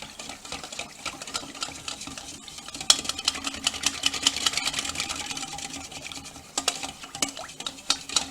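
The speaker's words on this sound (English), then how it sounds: "mix this all up together" A barbecue sauce glaze mixture for baby back ribs being stirred together in a bowl, giving soft, continuous scraping and sloshing with light utensil clinks, fairly quiet and close.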